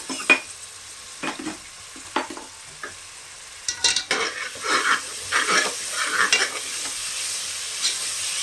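Vegetables sautéing with ginger garlic paste in a pan for a Bangalore-style veg biryani: a steady sizzle broken by repeated scraping stirs, close and fairly loud, with no one talking.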